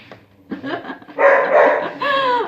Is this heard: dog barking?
yes